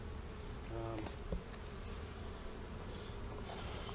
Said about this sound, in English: You can see where the bees come into the hive.